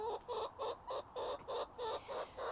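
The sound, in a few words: chickens clucking on the allotment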